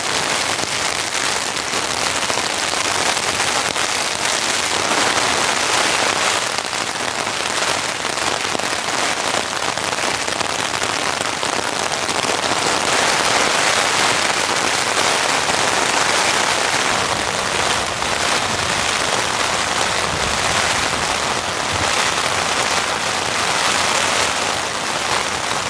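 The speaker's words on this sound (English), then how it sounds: "Hopefully it blows through and the rain stops." Heavy rain pours down on a campsite during a rainstorm, a dense, constant hiss and patter that fills the scene close by, steady and loud throughout with no voices.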